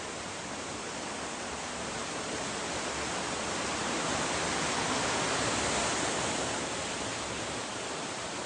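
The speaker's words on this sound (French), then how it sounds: "Ce sont donc les cascades de Nectan's Glen dont la formation a duré des millénaires" Waterfall at Nectan's Glen in Cornwall pouring in a constant broadband rush, an even hiss that holds steady throughout with no voices.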